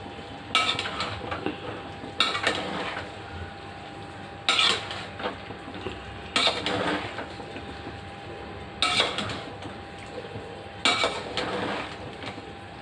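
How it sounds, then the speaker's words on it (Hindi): Utensil clinks and scraping as chopped fresh coriander, about half a bunch, is mixed into chicken in a pan for lemon chicken coriander rice, in six short bursts with quieter pauses between. "और अब हम इसको अच्छे से मिक्स कर देंगे चिकन के साथ में"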